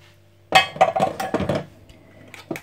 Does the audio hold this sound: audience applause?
no